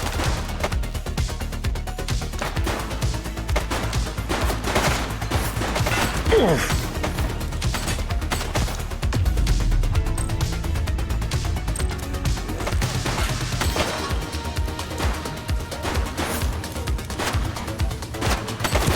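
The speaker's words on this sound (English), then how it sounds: "He's shooting!" Sustained gunfire in the police video game The Precinct, dense cracking shots and bursts over a loud, busy action backdrop lasting the whole stretch.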